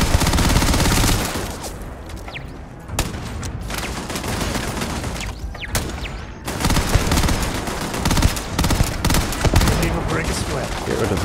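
Dense, sustained gunfire in the video game Starfield, with rapid turret bursts layered over continuous shooting and explosions, loud and close, with brief lulls around the middle.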